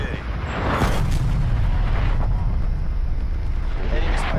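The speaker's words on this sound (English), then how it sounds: "Net call, incoming artillery." Incoming artillery in a multiplayer military shooter: a deep, sustained rumbling boom swells and rolls on with heavy low-end roar, loud and enveloping, with a faint sharper crack near the end.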